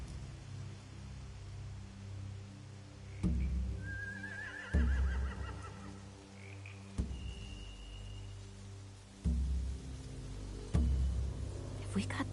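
Horses neighing in The Walking Dead video game, Final Season, with a couple of whinnies set among heavy thumping impacts and a dark, low ambient background.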